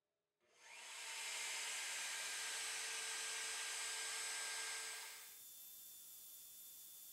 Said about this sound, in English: Now I'll switch tools and cut the pocket for the cable.